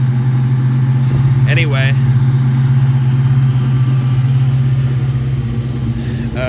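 A Ford SN95 Mustang GT with aftermarket exhaust idles after a winter cold start, a steady low engine drone running throughout while someone talks over it.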